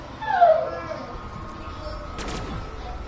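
A dog called Ace gives a brief whimpering yip early on, a thin high cry over game noise from a Black Ops 3 zombies match, with a sharp burst of gunfire later.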